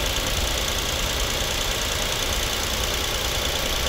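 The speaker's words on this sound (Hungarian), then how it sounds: "itt van ez a háromhengeres kis benzines moci, ugye 80 lóerős, nagyon csendes, kis citergő hangja van" A small 80-horsepower three-cylinder 1.2 petrol engine in a Nissan Micra idles quietly and evenly, a steady close hum with a faint ticking rhythm and no speech.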